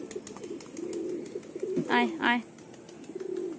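Pigeons coo in two short, close bursts amid a murmur of softer cooing from a flock, with a voice speaking briefly.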